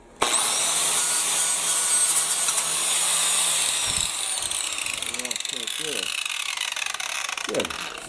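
A power sander grinds steadily and loudly for several seconds, then eases into a slightly lower drone while a voice talks over it.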